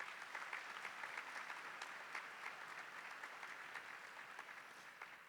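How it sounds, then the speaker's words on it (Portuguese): A church congregation applauds in a sustained, even stretch of many hands clapping, moderately distant and without voices. "que eu queria que você aplaudisse a igreja do Senhor"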